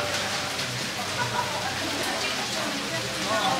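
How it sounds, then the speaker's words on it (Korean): Heavy rain falls steadily outside while sheltering in a cafe in Jeonju, a broad, even wash of hiss holding at constant loudness throughout. "지금 안 보이시지만 비가 많이 와요"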